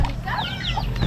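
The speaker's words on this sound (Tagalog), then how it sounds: "Itong mga manok" Chickens cluck close by in a short, busy burst of overlapping calls in an outdoor rural setting.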